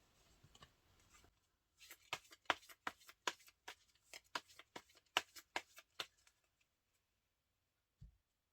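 Tarot cards being shuffled and drawn make a run of crisp, close snaps and flicks in an uneven rhythm, with soft rustling before and one dull thump at the end.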